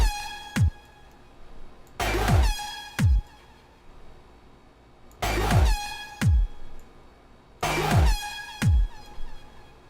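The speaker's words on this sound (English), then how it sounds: "Foghorns? Is that what they're called? Air horns." An air horn sample blasts in bursts within a music production session, each short blare followed by echoing delay repeats and decaying tails, recurring several times.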